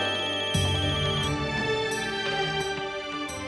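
A phone ringtone plays on and on in a repeating melodic pattern, clear and steady, with no one answering and no voices.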